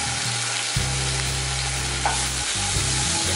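Red and green chilies with ginger garlic paste sizzle in a hot pan as they are stirred, a steady close frying hiss with scraping strokes of the spoon and no talk.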